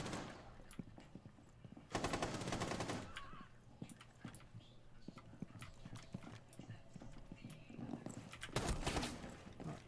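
Bursts of rapid automatic gunfire from the shooter game Rainbow Six Siege, with two dense volleys and scattered single cracks between them, loud and close, amid clattering in-game noise.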